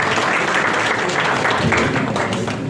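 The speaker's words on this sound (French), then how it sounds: "Mais ça, c'est applaudi, s'il vous plaît." Applause from an audience at the official launch ceremony of ACME Mali's activities, a loud, even wash of many hands clapping without pause.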